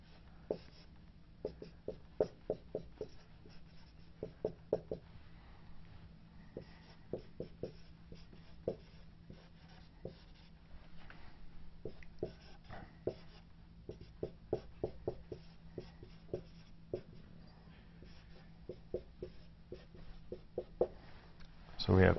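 Pen or marker writing out a pKa chemistry problem, a series of quiet, quick scratchy strokes in bursts with pauses, close and faint, without talking.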